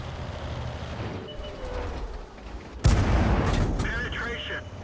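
A single sharp artillery blast in World of Tanks cracks out midway, loud and abrupt, followed by rumbling battle noise while a commentator keeps talking over the action.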